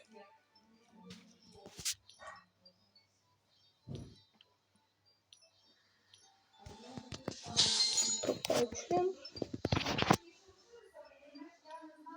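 A dog barks and yips in short bursts with whimpering in a video game, mixed with other sharp noises and a busy stretch of activity near the end.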